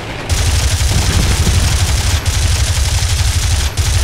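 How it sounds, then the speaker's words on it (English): Sustained rapid cannon and machine-gun fire in the combat game War Thunder, a steady loud rattling stream that runs through the whole stretch with no speech. "Someone else is firing behind me."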